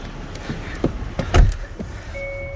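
A 2022 Hyundai Tucson N-line on a frigid winter morning, running after a remote start: a few dull clicks and thumps, then a steady, quiet engine hum with a faint whine, nearby and unaccompanied by voices.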